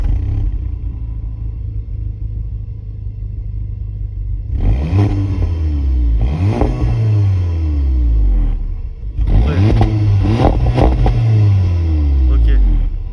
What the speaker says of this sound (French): Maintenant, on va démarrer le moteur